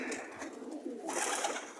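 Domestic racing pigeons coo softly and steadily at close range, a low continuous murmur of several birds with no talk over it.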